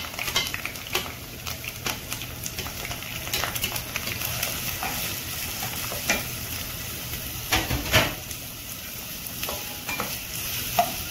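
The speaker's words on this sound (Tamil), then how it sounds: "அதை சின்ன சின்னதாக கட் பண்ணி அதை அந்த எண்ணெயில் சேர்த்துக்கோங்க" Chopped onions and curry leaves fry in hot oil for a squid gravy, giving a steady close sizzle broken by repeated scraping and stirring strokes of a utensil against the pan, with no voices.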